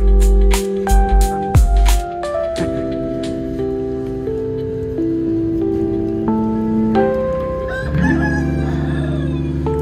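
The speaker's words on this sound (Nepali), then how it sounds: "कति सालपछि कुखुरा बसेको सुन्नु पाइरहेको छ" In Kathmandu, Nepal, a rooster crows amid a steady patter of rain, with a louder burst near the start and another rise near the end. There is no talking.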